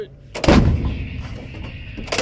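A Marine artillery gun fires once on a live range, a single sharp, loud boom with a rumbling tail, followed by a second blast starting just before the end.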